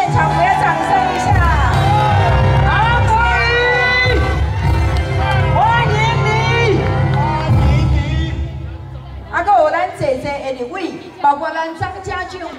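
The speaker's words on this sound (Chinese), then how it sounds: "咱的韩国瑜院长来到现场，我要掌声一下" A dense crowd cheers and shouts at an outdoor political campaign rally in Yunlin, Taiwan, a loud sustained roar that thins into scattered whoops and claps near the end.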